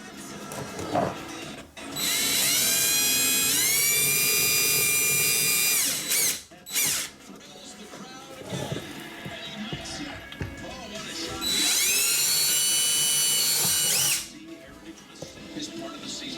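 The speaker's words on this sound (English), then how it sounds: "I think I'm going to go small through here, and then I'll drill it out from the top a little wider." A power drill whirs loudly in two long bursts, drilling a hole to mount a Garmin GPS on a snowmobile, pitch dipping as the bit bores, with quieter handling noise and brief pauses between.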